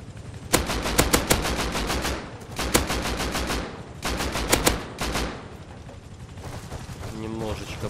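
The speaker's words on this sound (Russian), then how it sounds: "По корпусу, когда вы попадаете, тоже идет звук попадания." Bullets striking the armoured hull of an attack helicopter in the video game Rust, heard as loud rapid bursts of gunfire and metallic impacts in several separate volleys, with a lower mechanical whir trailing at the end.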